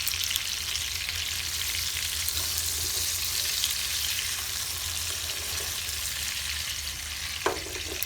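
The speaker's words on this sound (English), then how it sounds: "we're just going to add a tablespoon of butter. And as that's moving, doing its thing, we'll start basting it" A ribeye steak sizzles steadily in a pan of olive oil and butter while being basted, a constant close crackle with a faint clink near the end.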